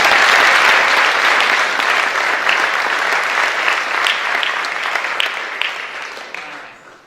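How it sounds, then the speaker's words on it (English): A school signing ceremony audience gives the parents a big round of applause, dense and loud at first, then thinning into scattered claps before fading out. "Let's give all the parents a great big round of applause for all the efforts"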